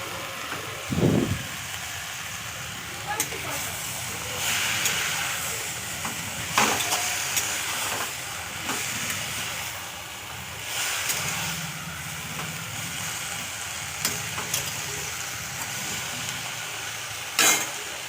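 Leafy greens and mixed vegetables sautéed in a pan give off a steady close hiss and sizzle, with occasional louder scrapes and stirring knocks scattered through, and no talk.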